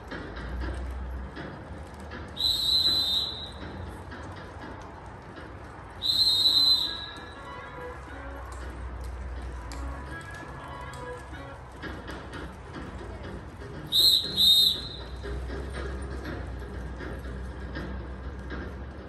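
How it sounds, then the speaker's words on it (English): Three sharp, shrill whistle blasts at intervals, the last one a quick double blast, signalling riders on horseback, over faint background noise and distant voices. "Move on the whistle."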